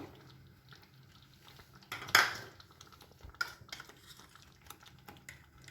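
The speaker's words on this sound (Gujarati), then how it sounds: "એક ચમચી ગરમ મસાલો નાખીશું અને એને બરાબર હલાવી દઈશું।" A spoon stirring garam masala into a cooking pan for a Gujarati palak masala idli dish, a few sharp metallic clinks and scrapes against the pan over quiet background, with one louder clank near the middle.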